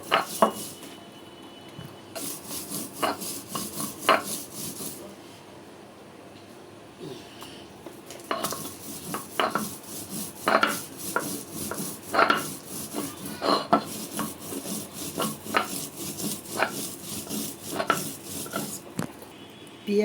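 Red and green chilies being ground on a stone slab (pata) for Bangladeshi bharta, repeated close scraping and rasping strokes of stone on stone, irregular in rhythm with brief pauses and occasional sharper knocks.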